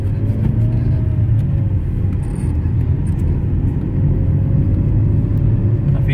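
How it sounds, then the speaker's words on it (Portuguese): A car engine runs on a test drive after a repair to its overheating cooling system, a loud, steady low rumble of engine and road noise with a slight pitch rise and fall, no talk. "feito o serviço, estamos testando o carro aqui."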